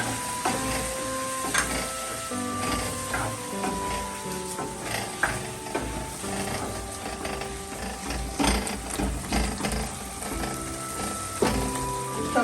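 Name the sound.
tempering (tadka) frying in hot oil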